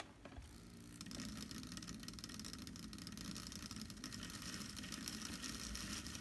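A Lima Western diesel hydraulic model train's small electric motor runs steadily after a service and traction tyre change, giving a continuous close whirring hum that starts about a second in and holds at an even level with no talking.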